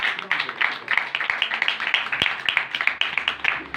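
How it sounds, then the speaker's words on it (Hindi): An audience at a Hindi-language church sermon breaks into loud, steady clapping that sustains for several seconds. "जोरदार तालियां।"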